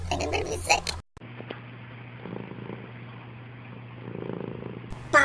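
Cat purring close by, a low, steady rumbling purr that follows a short burst of other noise and a moment of silence.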